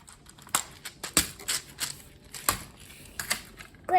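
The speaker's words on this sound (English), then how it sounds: "This keyboard infuriated me. I thought it would be easy to take apart." Sharp clicks and snaps of plastic parts from a computer keyboard being pried apart, irregular and close, spaced unevenly with quiet gaps between.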